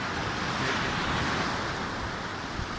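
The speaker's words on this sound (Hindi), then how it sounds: "ये दरमियान में इतनी स्पीड से पानी आ रहा है" Sea waves rush and wash onto a Sydney beach, a steady broadband roar with wind noise throughout and no talking.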